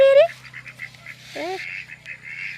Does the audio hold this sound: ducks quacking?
yes